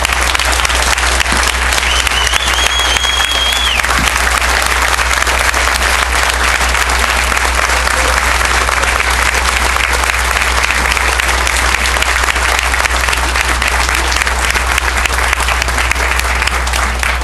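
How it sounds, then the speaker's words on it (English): Steady, loud applause fills the hall at a veterans' award ceremony as the audience honours the Legacy Veteran Voices awardees, an unbroken wash of clapping lasting well over fifteen seconds. "Let's have a round of applause for these distinguished Legacy Veteran Voices awardees."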